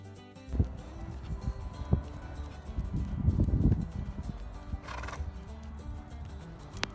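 Miniature horses on a farm whinny and neigh at close range while hooves clop irregularly on the ground, the calls rising to a loud peak midway before settling into quieter snorts and steps.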